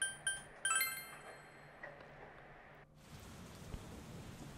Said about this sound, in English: You can hear it raining outside.